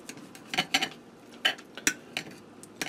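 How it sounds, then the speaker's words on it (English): Cutlery cutting into a well-done steak from a George Foreman grill on a plate, a series of small scattered clinks and scrapes of knife and fork against the plate, close and quiet. "I'm going to get in here and cut into the steak"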